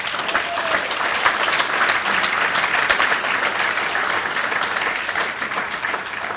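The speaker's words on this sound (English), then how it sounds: "how about a round of applause for all the teachers?" An audience at a high school hall of fame ceremony applauds the teachers, a loud, sustained wash of many hands clapping evenly in a large hall throughout, with no speech over it.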